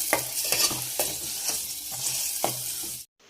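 Ground masala paste with onions sautés in a pan, a steady close sizzle punctuated by a regular series of spatula scrapes and stirs, roughly two per second, ending abruptly in silence.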